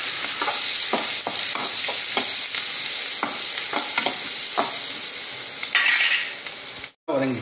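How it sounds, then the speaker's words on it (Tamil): Garlic, tamarind and dried chillies sizzle in a pan for a chutney. A spatula clicks and scrapes against the pan in a loose, repeated rhythm over a continuous close fry, with one brief dropout near the end. "பூண்டும் போட்டாச்சு, நல்லா வதங்கட்டும்."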